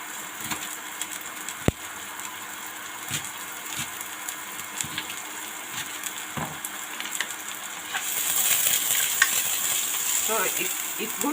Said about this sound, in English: So it's good to keep going back to stir because it could easily burn.